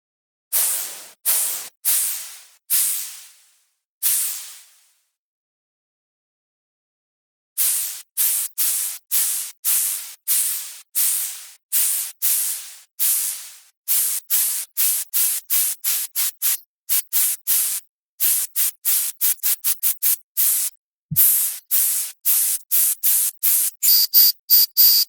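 Bursts of synthesized cymbal-like hiss repeat as they are shaped by EQ: slow separate swells at first, then after a pause a faster, denser run of short bright crashes, with no talk.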